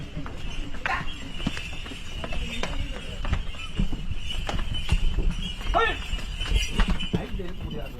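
Bulls carrying water for the Chennimalai hill temple in Erode district climb stone steps, their hooves clopping irregularly on stone amid crowd noise and voices.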